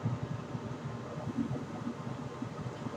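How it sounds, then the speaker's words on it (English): A laboratory vacuum pump runs steadily during vacuum filtration of acetanilide crystals, a continuous close whirring hiss with no voices. "Turn the vacuum back on."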